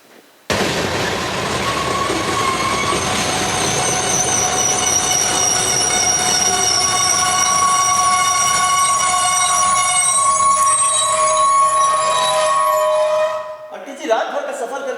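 A train pulls through a railway station with loud, sustained metallic wheel squeal and rumbling wagons, heard close for several seconds before it suddenly cuts off near the end.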